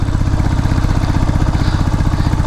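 A Royal Enfield Bullet motorcycle lugs a heavy load along a road, its single-cylinder engine thumping in a fast, even, low rhythm. The sound is loud and close, with no voices.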